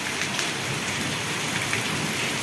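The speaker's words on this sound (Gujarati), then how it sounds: "વીજળીના કડાકા ભડાકા સાથે જોરદાર વરસાદ વરસી રહ્યો છે." Heavy rain pours steadily in a village during a storm with thunder and lightning, a dense, loud, unbroken hiss of drops close by with no voices.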